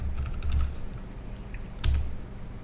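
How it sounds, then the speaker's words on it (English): Close, quick keystrokes clatter on a computer keyboard while a Cisco router is configured, a short burst of taps with a firmer key press near the end. "Now I'm gonna type host name."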